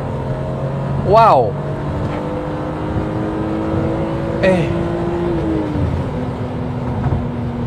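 A BMW M3 E36 pulls hard along a highway, its engine note rising steadily under a continuous drone, with two brief sharper bursts standing out; someone speaks briefly inside the car.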